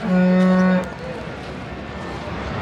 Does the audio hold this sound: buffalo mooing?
yes